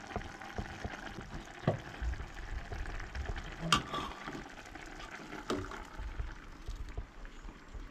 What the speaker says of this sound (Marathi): हांगसर तुमी पळोवंक शकता हलको हलको खतखतो येता